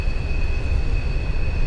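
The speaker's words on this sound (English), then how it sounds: "You'll find that they're letting the train go straight through" A train passing straight through without stopping, a steady loud low rumble with a constant high whine, close and unbroken throughout.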